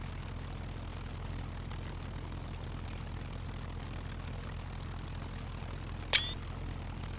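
A float plane engine in the game SCUM drones steadily and evenly at low volume, a constant propeller hum throughout, with a single sharp click near the end.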